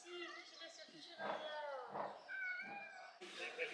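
Cats meowing among crowds of tourists in the Oudaya kasbah in Rabat, several short nearby mews over steady voices and crowd chatter.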